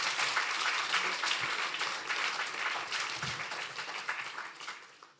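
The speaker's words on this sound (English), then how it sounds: "Please welcome him with a huge round of applause" An audience claps in a dense, sustained round of applause welcoming a speaker at a legal and business conference, full and steady before tapering slightly at the close.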